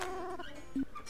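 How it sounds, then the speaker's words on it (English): A cartoon cat gives a brief meow in the indie video game Puss!, a short wavering cry followed by a faint electronic blip, with no talking. "He's a kitty kitty."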